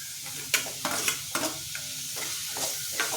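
Tomatoes sautéing with ginger and garlic in a pan for Chettinad chicken gravy: a steady, close sizzle broken by repeated scraping stirs of the spoon, with no voices.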